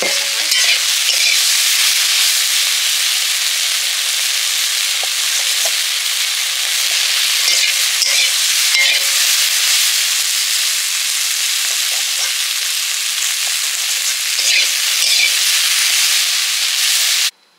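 Taro flowers with shrimp fry on a clay stove, a steady loud sizzle and crackle lasting throughout with occasional stirring scrapes, no voices.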